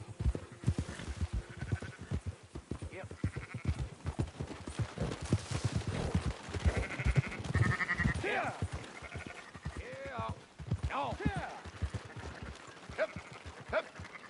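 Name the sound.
sheep bleating in a video game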